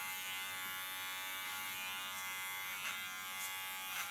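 An electric hair clipper buzzes steadily and close while cutting hair over a comb for an ultra-short hairstyle, with brief snips of texture and no talking.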